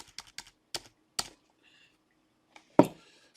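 Typing on a computer keyboard, with a quick run of crisp key clicks and then a pause before a few more firm taps, close and alone.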